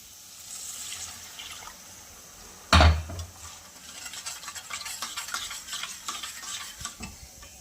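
Water poured into masala sizzling in oil for a bhaji curry makes a sharp splash and hiss, then settles into continuous bubbling and stirring noises.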